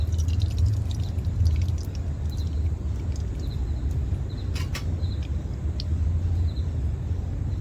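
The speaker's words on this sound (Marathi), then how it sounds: "आता मी कढईत तेल घालून घेते" Oil poured into a hot kadhai on a stove, a faint soft pour with a few light ticks over a low steady background rumble.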